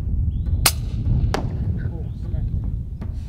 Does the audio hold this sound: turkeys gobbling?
no